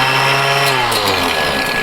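Rock crusher grinding gold ore into powder, a loud continuous mechanical whine and rumble with a slightly shifting pitch, close and steady with no talking.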